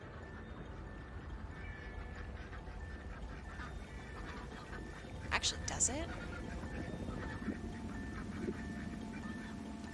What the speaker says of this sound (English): Is this a bunch of sounds of ducks?